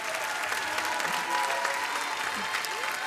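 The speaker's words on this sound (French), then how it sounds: "Applaudissements s'il vous plaît" Sustained, dense applause from a large audience at a French television tribute to Johnny Hallyday, steady and loud throughout with a faint voice or two beneath it.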